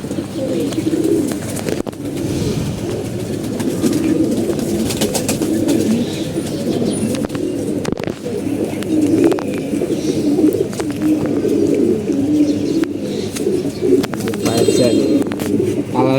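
Pet pigeons kept in pairs coo continuously, a dense layered murmur of low throaty coos from several birds close by, with occasional faint chirps and rustles and no talk.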